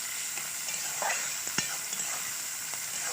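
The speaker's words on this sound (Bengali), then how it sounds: "এবার ভালো করে নেড়ে নেব।" Fish pasta with green chili, chopped tomato and salt being stirred in a frying pan, a soft continuous sizzle with occasional faint scrapes of the spatula, fairly quiet and with no voices.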